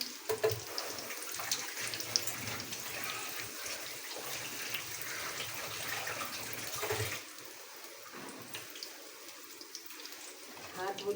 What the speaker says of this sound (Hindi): मैं ज़रा हाथ धो लूँ।